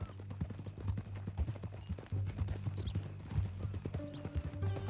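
Horse hooves clip-clop steadily in the video game Red Dead Redemption 2, a close, rhythmic run of hoof strikes continuing throughout, with a low steady hum underneath.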